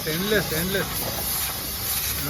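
Refrigerant or coolant hisses steadily out of the AC condenser of a transformed Maruti Gypsy/Jimmy-style vehicle, a loud continuous hiss running under a voice speaking nearby.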